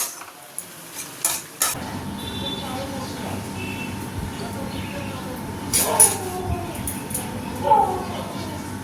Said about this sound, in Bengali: আর এখানে কলমি শাকটাও অলমোস্ট ভাজা হয়ে গেছে